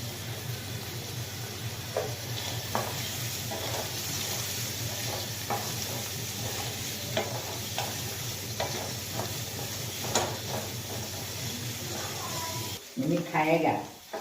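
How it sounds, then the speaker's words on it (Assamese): Mushrooms frying in a little oil with turmeric and salt give a steady, close sizzle with occasional stirring clinks, and a voice cuts in briefly near the end. "হালধি আৰু নিমখ দি সেইখিনি মই ভালদৰে গল্ডেন ব্ৰাউন হোৱালৈকে ভাজি ল'ম"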